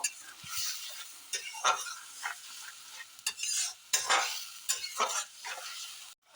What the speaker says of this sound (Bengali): মশলাটাকে আমি ভালোভাবে কষিয়ে নেব।